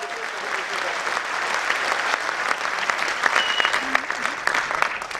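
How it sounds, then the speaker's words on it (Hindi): A seminar audience applauds a speaker at a Hindi motivational talk, with steady, dense clapping that fills the whole stretch at an even level. "मैं चाहता हूं एक बार तालियां राणा जी के लिए होनी चाहिए"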